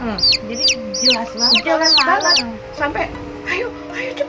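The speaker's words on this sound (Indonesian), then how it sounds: "suara anak ayam gitu loh" Repeated high, thin peeping calls from a chick in quick bursts, then fainter peeps as people talk over it.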